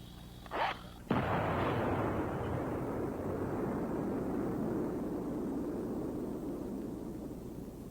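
A training explosion set off by an EOD team: a sharp nearby blast erupts after a short thud, then a long roaring rumble that slowly fades over several seconds, with no speech.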